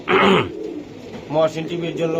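Racing pigeons coo in a loud close burst, then a second rolling coo follows, with voices nearby.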